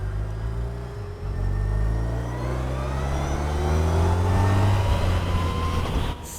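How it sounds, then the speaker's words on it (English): A Victory electric motorcycle accelerates hard from a standstill to 60 mph: a loud, close motor whine climbs steadily in pitch over rushing road and wind noise. "let's go do a real 0 to 60 on this bike."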